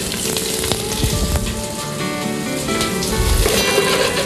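Pork rind, thyme and butter gently sizzle in a pan, a loud, close, steady crackle and hiss with scattered pops throughout.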